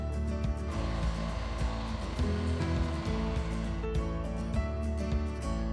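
A blender grinds soaked lentils into a thick paste for dahi baray, with a steady, loud, dense whirring roar that runs unbroken throughout, close by.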